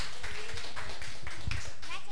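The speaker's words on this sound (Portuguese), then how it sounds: "uma salva de palmas" Scattered clapping from a small audience at a Brazilian TV show performance, a dense patter of hand claps lasting a couple of seconds, fairly close, with background voices mixed in.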